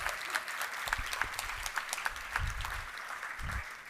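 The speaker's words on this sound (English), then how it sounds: "Can we give her a warm round of applause?" A conference audience at a closing session in Albany, NY applauds warmly, dense steady clapping from many hands with a few sharper individual claps standing out, moderately distant and sustained throughout.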